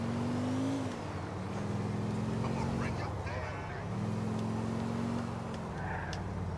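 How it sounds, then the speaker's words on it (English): A car engine in the GTA IV video game hums and revs, its droning tone rising and falling in two long swells over a steady bed of background game sound. "this engine's kind of nice. Sounds a little bit more dampered. Like it has a little bit more control. Nice and smooth."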